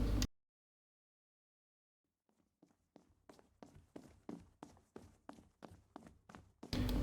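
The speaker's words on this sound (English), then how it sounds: "footsteps coming from the other side of the door" Footsteps approach from behind a door in the Tsukihime visual novel, starting faint after near silence and growing into a steady, evenly paced series of about a dozen muffled steps.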